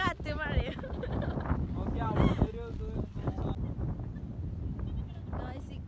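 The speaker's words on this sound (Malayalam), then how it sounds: "ഒടുക്കത്തെ കാറ്റ് മഴയും" Strong wind and rain on Kava Island rumble and buffet the microphone throughout, loud and close, while voices and what sound like sheep bleating come through over the gusts.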